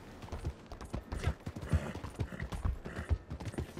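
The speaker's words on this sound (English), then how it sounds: "Is this a horse stable?" Horse hooves clip-clopping in Red Dead Redemption 2, a quick, irregular run of close, hard hoof strikes with faint creaking tack, heard alone without talk.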